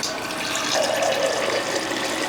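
Hot brass nugget fresh from a small furnace being quenched in water, a close bubbling hiss and sizzle that swells and holds for a couple of seconds with no talk over it.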